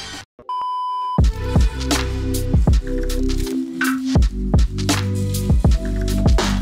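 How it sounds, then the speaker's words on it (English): An electronic ringtone plays a quick melodic run of bright notes, repeating for several seconds, fairly loud and close, with no voices. "Oh, the phone's ringing."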